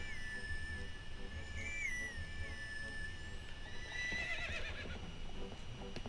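A horse in The Legend of Zelda: Twilight Princess HD lets out a high, wavering neigh over steady game background sound, followed by a clatter of hooves, moderately quiet.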